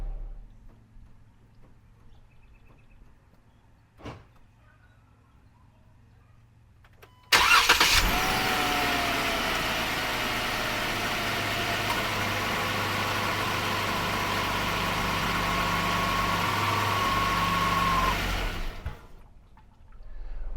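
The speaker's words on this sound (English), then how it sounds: "the engine will run on continuously for 15 minutes" A car engine fitted with a newly installed remote start cranks and fires after a quiet stretch, then idles steadily and evenly for about ten seconds before cutting off.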